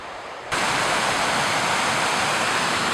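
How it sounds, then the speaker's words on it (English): Glacial alpine waterfall near Twin Lakes, Alaska, starts abruptly after a brief quiet moment and becomes a loud, steady, full rushing roar that continues unbroken. "Came across this spectacular glacial Alpine waterfall here."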